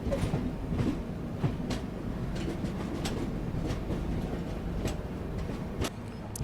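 An Indian Railways train running on a steep ghat section, steady rumble with rhythmic clicks of wheels over rail joints, heard from on board without talking.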